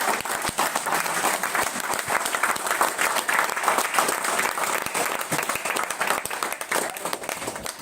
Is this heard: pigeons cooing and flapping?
no